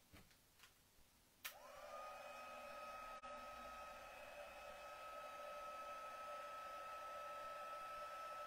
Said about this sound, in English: off camera I'm going to dry it with my heat tool